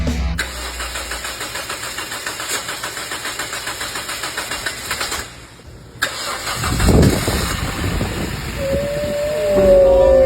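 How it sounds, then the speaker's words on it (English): A Toyota Vios 1.5 engine (1NZ) cranks with a rapid rhythmic chugging, cuts out briefly, then catches and roars up to a loud, steady idle with a rising whine. "The 1NZ engine finally roared to life after days of frustration."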